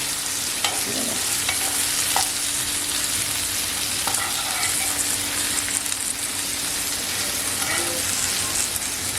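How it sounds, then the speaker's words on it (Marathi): Sole fillets frying in oil in a pan give a steady, close sizzle throughout, with occasional stirring clinks and scrapes on top. "बाकीची जी मच्छी आहे ना ती फ्राय करून घेऊया"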